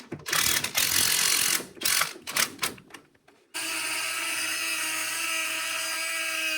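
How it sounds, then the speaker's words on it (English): A wrench or ratchet working loose a 14 mm nut on the rear shock of a Suzuki Jimny during a suspension lift-kit install, giving loud rapid ratcheting bursts for several seconds before a steady mechanical whine takes over. "I was able to remove the top nut, or almost remove it."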